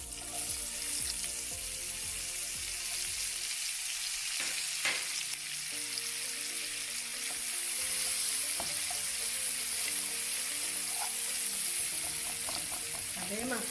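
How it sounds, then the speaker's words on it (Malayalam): Onions fry in a tablespoon of oil in the same frying pan used for prawns, for a prawn biryani masala: a continuous close sizzle with occasional stirring scrapes and faint tonal sounds in the background. "ഇനി അതേ ഫ്രൈ പാനിൽ തന്നെ നമുക്ക് ഉള്ളി ബ്രൗൺ ആക്കാം, മസാല റെഡിയാക്കാം."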